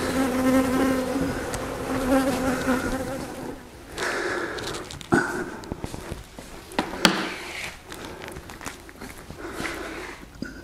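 Honeybees buzz steadily from an opened beehive during queen grafting work, a dense insect drone that is loudest at first, then thins under handling noises and brief knocks.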